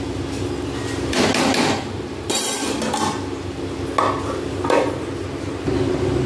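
Stirring ingredients in a cooking pan while preparing an ilish (hilsa) fish dish, with scraping and clanking of a utensil against the pan in irregular strokes, close and fairly loud over a steady sizzling hiss.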